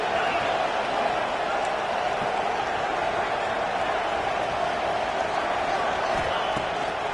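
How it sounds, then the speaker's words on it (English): Steady, dense stadium crowd roar during a big third-down play in a college football video game, SMU vs Missouri, holding a constant loud wash for several seconds. "if you didn't know this was a big play, the crowd is telling you."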